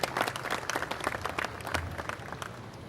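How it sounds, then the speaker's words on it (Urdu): Audience at an Urdu poetry mushaira in Karachi applauding, a dense, steady wash of many hands clapping throughout with faint crowd murmur beneath. "آپ سب لوگ اپنے محبوب کے لیے تالیاں بجائیے۔"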